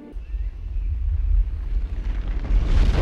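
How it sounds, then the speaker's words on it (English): A fireball explosion in The Hunger Games film swells as a deep rumbling roar with windy, rushing low-end turbulence that builds louder toward the end. "That was a fireball, man!"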